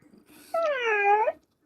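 An electronic toy cat switched on gives a single close, clear meow-like cry that swells and bends in pitch for under a second, then stops, with no talk over it.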